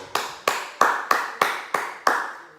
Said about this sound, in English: I give you guys a round of applause